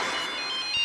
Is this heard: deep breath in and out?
no